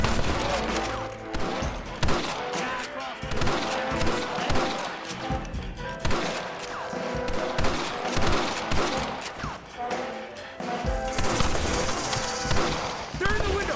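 Snipers in a window are fired on in Red Dead Redemption: rapid, repeated gunshots crack close and loud in heavy bursts. A voice shouts partway through.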